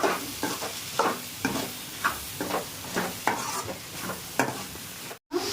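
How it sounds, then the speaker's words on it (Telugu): Food frying in oil in a pan, with a steady sizzle under regular stirring strokes of a spoon against the pan, roughly every half second, close up and with no talk. "కొద్దిగా ఆయిల్ తక్కువ ఉంది కదా, అదో కనిపిస్తుంది కదా ఆయిల్. ఇంకో కొన్ని పోసుకోవాలి. పోసుకొని ఫ్రై చేసుకోవాలి."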